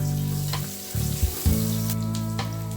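Onion frying in hot oil on a griddle, a close continuous sizzle with a few thumps and scrapes in the middle, over a steady low hum and with no voices.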